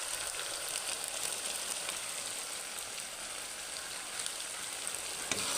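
Chicken pieces with chicken masala being stirred in a frying pan of hot oil, giving a steady, even sizzle and crackle that runs throughout with no talking.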